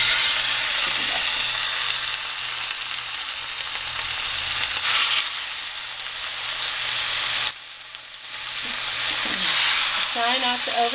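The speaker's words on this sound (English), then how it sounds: "I know it's hot because it's been on for quite a bit. So I'm going to go ahead and just put my chicken in" Chicken sizzles loudly in a hot pan, a continuous crackling hiss that swells and briefly dips, with faint voice-like sounds near the end.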